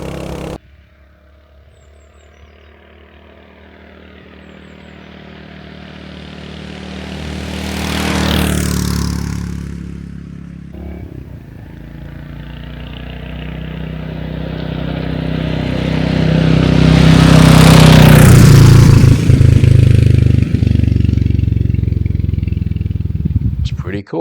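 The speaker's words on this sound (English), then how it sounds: "I'll do some ride past, and you'll see how good this bike sounds." A Royal Enfield Hunter 350 motorcycle passes twice, each time swelling from distant to a near roar and fading away, with the engine note rising and dropping as it rides by; a voice is heard at the very start.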